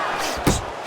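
A single heavy punch thuds home in the boxing game Fight Night Champion, George Foreman against Donovan Ruddock, a short loud impact cutting through steady crowd noise and commentary.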